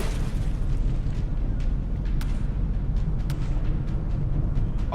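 Shell hits landing on a battleship in the naval combat game From The Depths: a dense, rumbling low-end barrage with a few sharp cracking impacts standing out over the roar.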